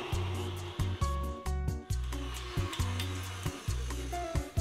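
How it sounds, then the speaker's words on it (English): An electric mixer whirs steadily at close range while beating egg whites until white and foamy, its motor drone briefly dipping and surging as the beaters move through the bowl. "I'm going to beat this until it's white and foamy"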